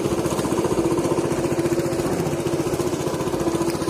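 A mid-pitched engine runs steadily with a fast, even chugging pulse, droning without pause.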